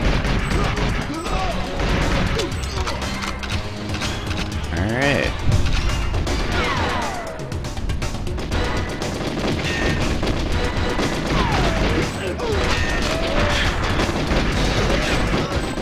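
Gunfire from the video game Goldeneye pops and bursts in rapid repeated volleys over a busy game soundtrack, with a player talking intermittently throughout.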